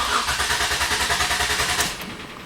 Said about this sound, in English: I'm going to step on the gas pedal all the way to the floor and crank it